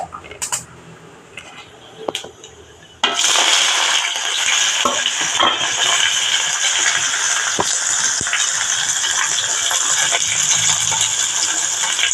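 Onion, green chilies and curry leaves fry with cumin in a pan for a vegetable thoran, a loud steady sizzle bursting in after a quieter stretch and holding on, with stirring clatter scattered through it.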